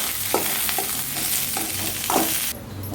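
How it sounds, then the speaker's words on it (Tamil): Brinjal sautés in a pan for masala, a dense sizzling hiss broken by a few distinct stirring scrapes before the sizzle drops away near the end. "இப்போ நல்லா வதக்க வெயிட் பண்ணணும்."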